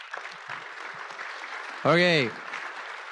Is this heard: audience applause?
yes